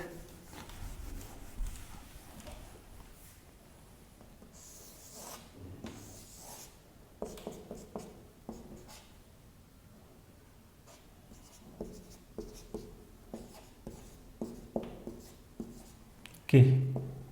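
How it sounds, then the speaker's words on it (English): Marker or chalk scratching on a board in a maths lesson on relations and functions, a series of short strokes through the clip, with a teacher speaking between them. "Third one I'll write here."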